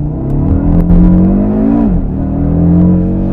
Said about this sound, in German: jetzt machen wir einen Launch Control